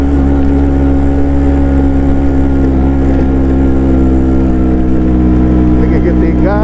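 Vespa scooter engine laboring up a steep uphill road in a low gear, a loud, steady mid-pitched drone with strong harmonics throughout, ending with a faint rising whine.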